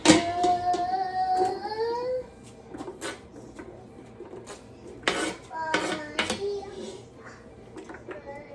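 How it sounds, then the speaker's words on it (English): Peppers go into oil in a pan on a stove set to medium while jambalaya balls are being made. Sharp metallic clinks and clatter of pan and utensils come in scattered bursts, with a voice briefly heard at the start. "I'm gonna turn that on medium. And I'm gonna add my peppers in."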